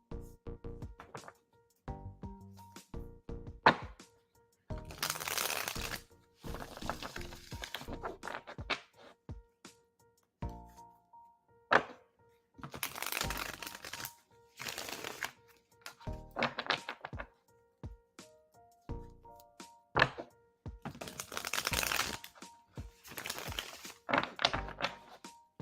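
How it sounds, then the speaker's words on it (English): Tarot cards being shuffled by hand in repeated bursts of riffling and soft tapping, with brief pauses and light knocks between rounds, close and fairly quiet, no talking. "we're shuffling for the second question now"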